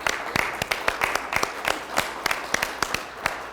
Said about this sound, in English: Could I just have a quick round of applause for my friend Christine Alessandro?